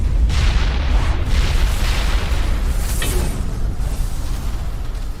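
A huge explosion in the Mass Effect sci-fi game as a continuous deep, loud boom and roaring rumble fills the whole stretch, with bursts of crackling debris and no talking.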